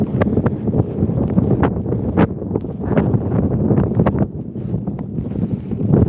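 Strong outdoor wind blusters and buffets the microphone, a loud, continuous roar with sharp gusty thumps throughout.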